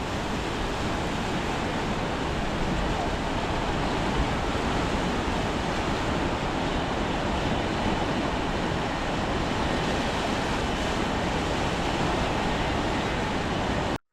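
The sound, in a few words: Ganga river water flowing at Haridwar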